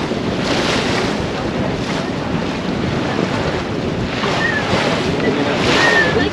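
Wind of about 14 to 15 knots roars across the microphone while sailing a boat near Peel Island, with waves and surf washing steadily around the hull in a loud continuous rush.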